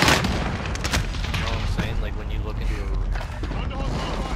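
Dense, rapid gunfire and booming blasts crowd a Call of Duty: Modern Warfare multiplayer match, loud and continuous, with a voice talking over the clatter.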